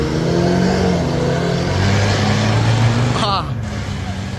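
Toyota Hilux engine with a full straight pipe exhaust revving loudly and close, a rough roar that swells and then drops off near the end.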